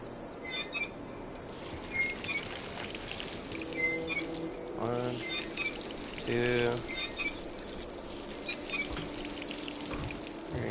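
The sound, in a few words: faucet water running in video game Dishonored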